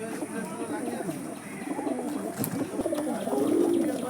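Andhra kalsira domestic pigeons coo close by in soft, throaty, continuous murmurs that swell slightly toward the end, with faint voices in the background.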